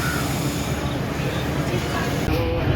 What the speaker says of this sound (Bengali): পাশে যেই ট্রেনটি দেখতে পেলেন সেটি হচ্ছে সিল সিটি এক্সপ্রেস